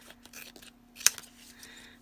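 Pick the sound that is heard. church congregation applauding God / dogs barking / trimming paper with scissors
trimming paper with scissors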